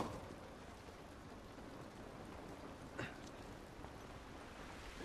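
Rain falls steadily in the video game The Last of Us Remastered, a soft even hiss throughout with one brief louder patter partway through.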